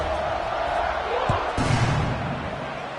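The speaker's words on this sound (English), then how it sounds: "this crowd is buzzing after that last score" A college football stadium crowd at a Florida State versus Texas Tech game keeps up a steady, dense roar of murmur and cheering, with a commentator talking over it.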